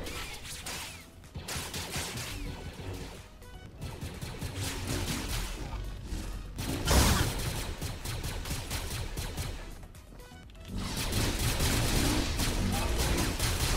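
Rapid bursts of Stormtrooper blaster fire in Fortnite crackle over continuous noisy action and voices, with loud volleys that pause briefly and then resume.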